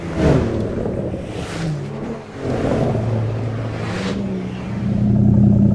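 Race car engine revving on a track, a steady loud drone with rising and falling pitch sweeps that swell and ease over a few seconds, no voices.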